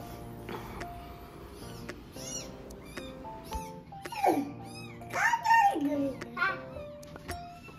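Kittens meow several times indoors on a spring farm, their rising and falling cries clustered in the second half, moderately close, over a busy background of household sounds and children's voices.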